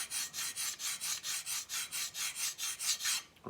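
Microtech Socom Elite knife drawn across a coarse sharpening stone while laying in the bevels, a steady rasping scrape repeated in about fourteen even strokes, close and fairly loud with no talk.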